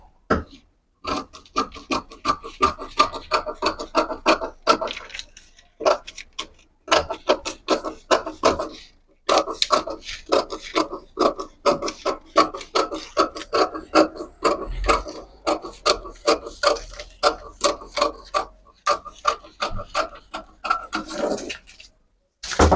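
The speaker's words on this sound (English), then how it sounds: "So let me cut out this line." Scissors cut along a line through a paper dress sewing pattern: repeated crisp snips and rustling paper in quick bursts with short pauses, close and clear, no talking.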